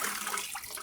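BMW engine coolant pours out of a disconnected hose in a brief steady splashing, hissing liquid stream, close and continuous.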